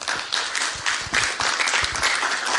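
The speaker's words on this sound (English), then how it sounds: "Round of applause for him once again" Audience gives a round of applause after a talk on WhatsApp hacking, dense uneven clapping that swells and dips, fairly close and loud, with no talk over it.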